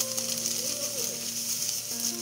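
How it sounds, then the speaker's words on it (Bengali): Steady sizzling of potatoes and semolina frying in a pan, a continuous crackle with a faint tonal hum in the background, no voices. "এইদিকে মানিকে টিফিনটা বানিয়ে দিচ্ছি, আলুটা ভাজা হয়ে গেছে, সুজিটা দিয়ে দিই।"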